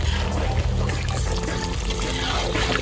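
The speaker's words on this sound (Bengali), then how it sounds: "এবার দিয়ে নেবো পরিমাণ মতো জল।" Water pours steadily into a pan of cooked-down chicken curry masala, making a close, continuous rushing splash for a few seconds with no speech.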